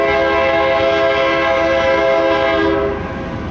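A freight train passing through Gallup near historic Route 66, sounding its horn in a loud sustained chord over a heavy rail rumble, the horn ending near the close as the rumble continues.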